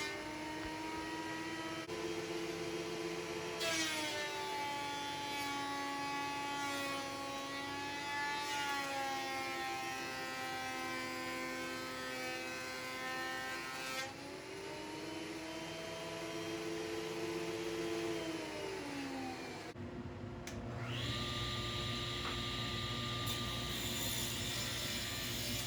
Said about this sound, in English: With the boards now jointed, I will run them through the thickness planer